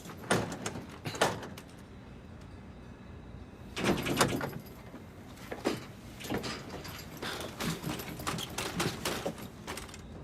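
A faulty, stuck door being forced open, heard as repeated rattling bangs and scraping thuds in bursts, with pauses between the efforts.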